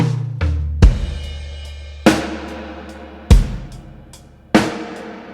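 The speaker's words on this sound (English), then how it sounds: "I found this Foley hit and I added some distortion and EQ'd it a bit and played it behind the snare" A distorted, EQ'd Foley hit is layered behind a snare drum in a pop track, striking four times at even intervals over a low bass tone, loud and close.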